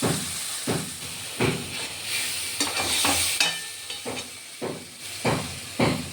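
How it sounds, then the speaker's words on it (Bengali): Spice paste of ground spices and garam masala fries in a pan with a hissing sizzle, broken by rhythmic scraping strokes of a spatula about every half second, close and clear, with no voices. "এই দেখুন মশলাটা ভাজা ভাজা হচ্ছে।"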